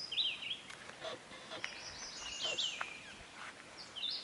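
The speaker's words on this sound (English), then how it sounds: "Can you hear the birds singing?" Birds chirping in a garden, a few thin, high calls scattered over quiet background, faint and at a distance, with no voices.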